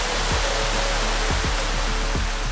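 A waterfall on a Madeira mountain trail roars close and loud, a constant dense rush of falling water that fills the whole scene without pause.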